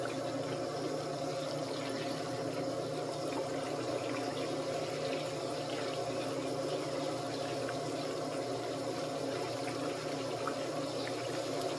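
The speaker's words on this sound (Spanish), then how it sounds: "Ahí hay grasa, so claro que va a haber chispoteo." Pork belly frying for Puerto Rican chicharrones, a steady dense crackle of sizzling fat with fine spattering, continuous and moderately quiet throughout, no voices.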